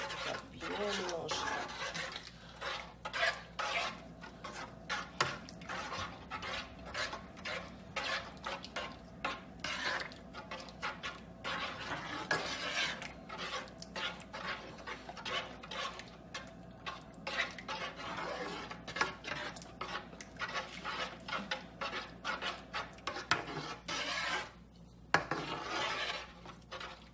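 Spoon scraping and stirring pasta with béchamel sauce, mushrooms and spiced chicken in a pan, a continuous soft rasping that carries on for nearly half a minute, with speech at times.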